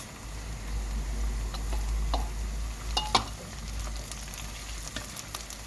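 Onions and red kapya peppers sautéing in a pan give off a steady close sizzle, dotted with scattered light pops and crackles throughout.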